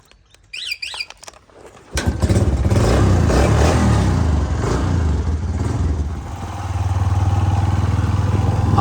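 A motorcycle on a village road on a cloudy morning starts up and runs with a loud, steady engine drone close by, rising in pitch toward the end, after a brief quiet moment with birds chirping.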